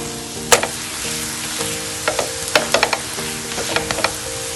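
Constant close sizzling of a sweet jaggery pancake frying in oil on a non-stick griddle, punctuated by several clicks and scrapes of a utensil against the pan.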